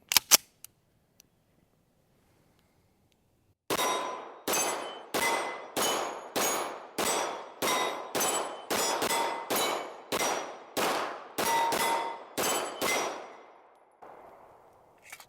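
Rapid shots from a Stealth Arms Platypus pistol ring off steel targets, a string of about fifteen sharp metallic clangs in quick, slightly uneven rhythm after a few isolated opening shots and a quiet pause.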